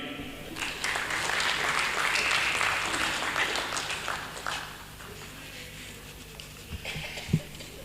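Audience applause at a book launch for a volume on an artist's life and work. Dense clapping runs for about four seconds, then thins into scattered claps, faint room sounds and a few louder knocks.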